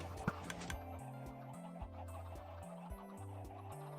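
Chickens on a video game chicken farm cluck in quick, repeated bursts over a soft clicking, ticking game sound, close and steady with no talk.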